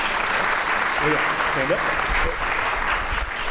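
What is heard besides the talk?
audience applause for panelists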